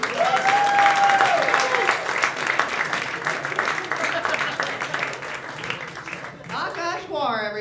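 Applause and cheering fill a comedy club for a stand-up comedian, loud and sustained, while a host's voice cuts over it and the clapping thins toward the end.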